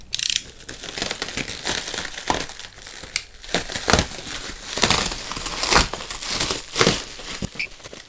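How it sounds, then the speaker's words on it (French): Plastic packaging crinkles and crackles loudly up close as Facom tools are unpacked, a busy run of irregular rustles, crushes and tearing snaps with no talking. "Donc on est parti pour le déballage."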